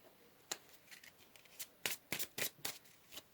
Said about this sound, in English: Let me just pick my cards up real quick